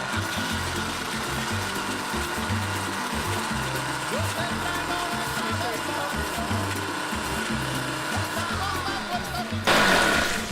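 Blender pureeing chipotle peppers with tomato sauce, a steady close mechanical whir with grinding texture that runs throughout and surges briefly near the end.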